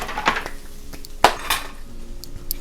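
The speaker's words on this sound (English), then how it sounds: "We're gonna stir that around, caramelize it." Garlic, portobello mushrooms, onions and poblano being stirred in oil in a pan, with sharp metallic clinks and scrapes of a utensil against the pan at irregular intervals over a soft background hiss.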